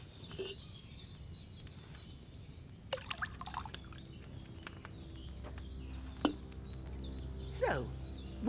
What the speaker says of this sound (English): First, you have to pour the right base into the cauldron.